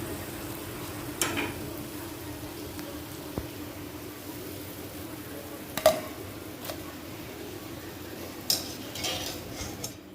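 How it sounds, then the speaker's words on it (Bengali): Palm fruit fritters (taler bora) sizzle softly in hot oil as they are lifted out, with scattered clinks and scrapes of a metal spoon against the pan over the steady hiss. "এবার আমি বড়াগুলোকে তেল থেকে তুলে নেব।"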